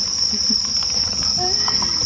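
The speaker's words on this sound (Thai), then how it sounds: "นี่ค่ะ และนี่ก็คือจิ้งหรีนนะคะ ที่เรา จับออกมาจากบ่อของจิ้งโกงได้นะคะ" Crickets on a cricket farm, freshly taken from a breeding pen, keep up a steady, bright, high-pitched chirring drone that stays close and constant throughout, with faint scattered rustles beneath.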